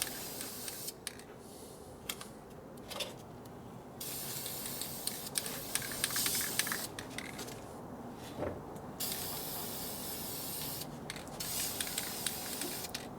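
Spray paint hissing onto the cylinder head of a 1972 Harley Sportster Ironhead in a workshop, laid on thick in several long bursts with short gaps between them, fairly quiet and steady with no talking.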